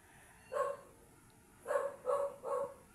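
A dog barks four times, one single bark followed by a quick run of three, fairly close against quiet background noise.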